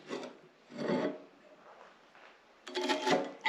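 A 16 and 18 millimeter socket wrench works on a chimney stove in short bursts of metallic rasping and scraping, separated by quiet gaps, close and fairly faint.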